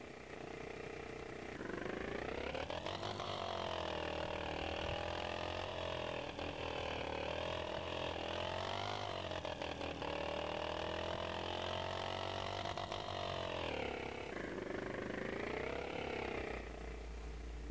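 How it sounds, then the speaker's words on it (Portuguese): A motorcycle engine from a motorcycle video game with bikes such as the XT660, XJ6 and CB300 runs steadily, droning loud and close, revving up and down in waves with a deep low hum beneath. "o que eu achei estranho foi o barulho dessa moto"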